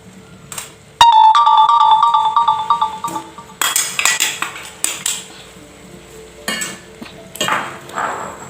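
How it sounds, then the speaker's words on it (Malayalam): Ground coconut paste being stirred into aviyal in a metal pot, with scattered clinks and scrapes of a spoon against the pot and a ringing tone sounding near the start. "അരച്ചത് ചേർത്തിട്ട് നന്നായി ഇളക്കുക."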